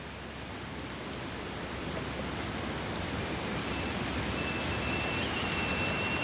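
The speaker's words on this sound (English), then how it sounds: "It's raining as forecast." Steady rain falls outside a campervan parked in a forest, a dense even hiss of drops that grows slightly louder over several seconds, with no voices.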